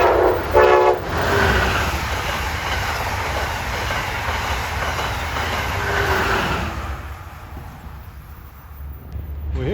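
Amtrak train 131 from New York to Washington rushes past at speed, a loud roar of wheels and carriages with a brief horn-like tone at the start and clattering rail noise that fades slightly toward the end.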